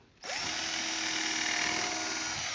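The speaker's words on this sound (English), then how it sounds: "Do recommend still pre-drilling some holes." A power drill whirs up abruptly and runs steadily at full speed, loud and close, while pre-drilling holes in a Chinese autoflow beehive, with no talking.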